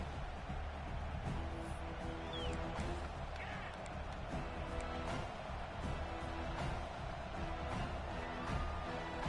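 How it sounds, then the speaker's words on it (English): Stadium crowd noise from the College Football 26 video game, a steady dense roar and murmur filling the background throughout, with a play-by-play commentator talking over it. "this crowd is buzzing after that last score"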